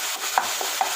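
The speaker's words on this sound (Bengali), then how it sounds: "দিয়ে মশলাটা ভালো করে কষিয়ে নেব" A spatula scrapes and stirs spice paste frying in oil in a pan, with three short, distinct scraping strokes over a constant sizzling hiss, close and fairly loud, no talking.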